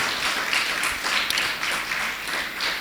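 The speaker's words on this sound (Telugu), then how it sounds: "వీళ్ళ ముగ్గురి గట్టిగా క్లాప్స్ ఇవ్వండి" A church congregation claps in a sustained burst of applause, many hands together at close range, steady and fairly loud throughout.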